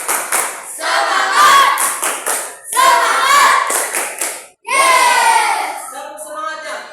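Schoolchildren in an elementary classroom doing a rhythmic spirit clap, a group clapping crisp patterned bursts in unison alongside children's voices chanting, loud and close.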